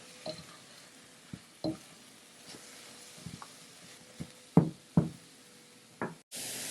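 Mushrooms cook down in a soup pot, with a faint sizzle under a series of sharp knocks and scrapes of a spoon against the pot, irregularly spaced, ending in a brief louder hiss.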